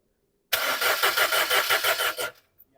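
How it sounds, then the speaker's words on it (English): A 2005 Ford Fiesta starter motor cranking through a push start button, about eight rapid rhythmic chugs, loud and close, cutting off abruptly after almost two seconds without the engine catching. "you can hear the motor cranking"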